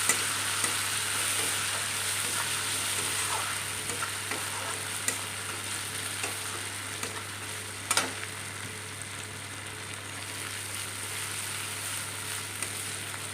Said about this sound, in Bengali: আমি কিন্তু খুব সুন্দর করে এটাকে আগে ভেজে নিচ্ছি। মশলাটাকে কিন্তু এখানে ভালো করে ভাজতে হবে